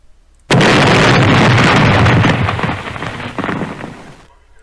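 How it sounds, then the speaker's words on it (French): New Year fireworks at the Arc de Triomphe in Paris erupt suddenly into a loud, dense barrage of overlapping bursts and crackles, rumbling on for several seconds before thinning and fading. "l'Arc de Triomphe va vous faire une blague avec des feux d'artifice"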